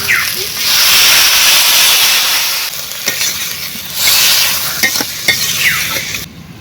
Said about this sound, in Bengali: এবারে অল্প করে জল দেবো খুব বেশি জল দেবো না